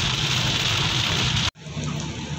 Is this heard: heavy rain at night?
yes